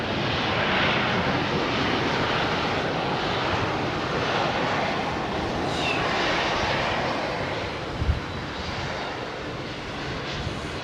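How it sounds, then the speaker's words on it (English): An Emirates Airbus A380 airliner on approach to London Heathrow runway 27R, its engines a steady, broad roar that holds loud and close throughout, with a brief thump near the end. "Emirates A380 on approach"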